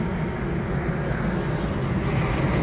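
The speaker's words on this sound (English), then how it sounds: "plane passing by" An airplane passes overhead as a loud, steady low roar that fills the whole stretch, constant without clear rise or fall.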